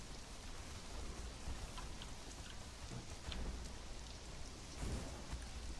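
Rain falls in a video game as a thick, continuous patter, with slight swells in intensity and a deep low rumble underneath, heard alone without talk.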